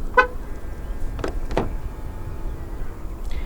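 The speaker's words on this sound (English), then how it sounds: "To lock the car, press the silver button on the driver's side door handle." A 2024 Proton S70 1.5T Flagship locks from the silver keyless button on the driver's door handle, giving a short chirp followed by two quick mechanical clunks of the locks, heard close over faint background hum.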